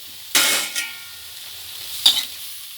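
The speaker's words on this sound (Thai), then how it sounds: "แล้วก็ผัดให้เข้ากันนะคะ" Pork being stir-fried in a pan with red curry paste, kaffir lime leaves and red chilies, heard as two short bursts of sizzling and stirring with a quiet pause between them.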